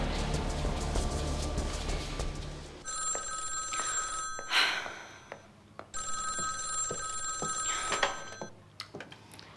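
An old-style telephone bell rings in two long, loud ringing bursts separated by a pause, close and clear, after a stretch of low rumbling background.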